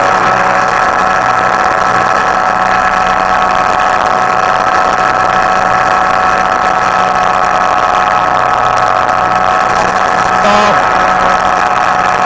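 A Chinook ultralight aircraft's engine drones loud and steady through takeoff, holding a constant high-revving pitch with a brief rise near the end.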